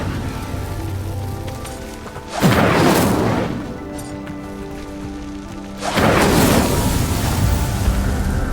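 Fire spell Incendio bursts onto a pyre in the video game Hogwarts Legacy, two loud roaring whooshes of flame a few seconds apart over a low, steady game ambience.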